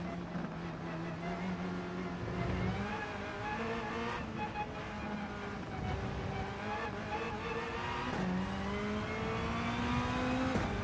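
A race car in a racing video game has its throttle blipped, the engine note rising and dropping in quick revving sweeps with sharp shifts in pitch, loud and close throughout.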